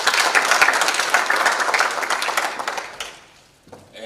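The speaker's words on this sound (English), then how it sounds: "Please give him a round of applause as well" An audience gives a dense round of applause at a school gathering. The clapping is loud and sustained, then fades out over the last second, when a voice begins to speak.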